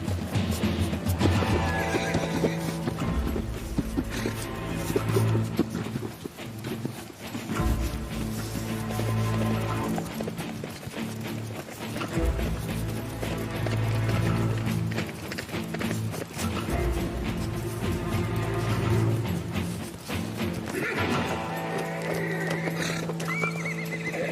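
Horses whinny repeatedly over a steady clip-clop of hooves, with a busy, continuous outdoor bustle throughout.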